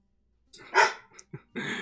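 A dog barks close by in a few sharp, separate bursts, loud and near, with nobody talking over it.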